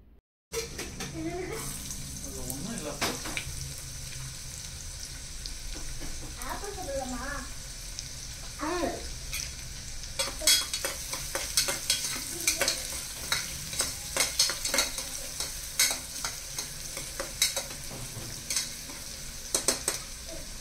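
Cashews and curry leaves fry in a pan with a steady sizzle, and spoon stirs scrape and clatter throughout, growing busier and louder in the second half. A faint voice sits in the background.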